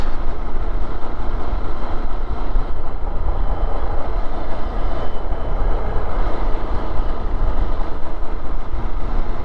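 A train clatters along the rails on a ride near Sakleshpur, a loud, steady rumbling roar heard from on board, continuous and unbroken throughout.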